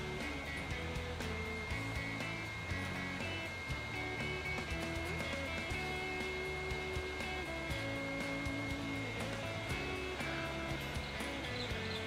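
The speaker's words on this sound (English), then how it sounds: "Then I can use the hot air gun." Hot air gun blowing steadily on a chip resistor during soldering rework, a continuous even rushing whoosh with a faint hum that holds unchanged throughout.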